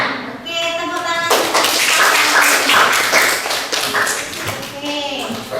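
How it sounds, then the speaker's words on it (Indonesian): Children in a classroom clap their hands together in a dense, lively burst for several seconds, following a teacher's voice and fading as talk resumes. "Oke, tepuk tangan."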